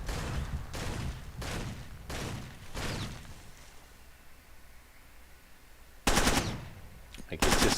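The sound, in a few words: Uzi submachine gun firing in video game Far Cry 2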